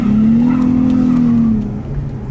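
A car on 235-width tires launches with a clutch kick at full throttle, its engine giving a loud, close, sustained tone that drops off after about a second and a half, with no talk.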